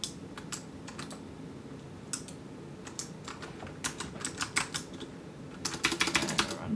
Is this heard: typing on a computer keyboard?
yes